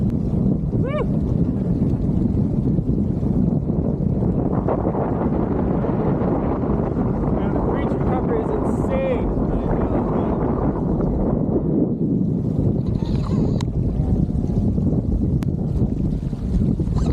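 A Waydoo Flyer EVO eFoil with jet propulsion skims over open water, giving a continuous loud rush of water spray and wind buffeting the microphone, with a faint motor whine and brief whoops in the distance.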